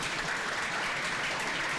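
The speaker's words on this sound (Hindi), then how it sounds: "भाई ताली बजाए रहिए, आपके लिए भी कोई बजाएगा" An audience at an academy award ceremony gives a short, steady burst of applause, dense clapping heard from the room at moderate level.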